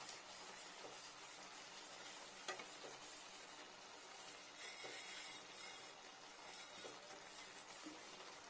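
Egg kosa masala with chilli powder sizzles and fries in oil in a pan while being stirred, a steady faint hiss with occasional scraping clicks throughout.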